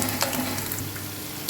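Corn pakoras, fritters made with lightly boiled corn kernels, sizzle steadily in hot oil. The crackle is close and continuous and fills the whole moment with no voice over it.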